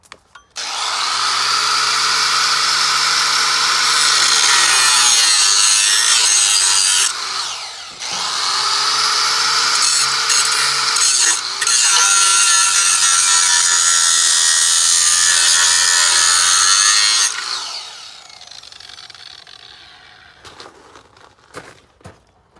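A tube being ground off a 1989 Ford Foxbody Mustang, a loud continuous abrasive grinder whine with a short break partway through, then winding down near the end.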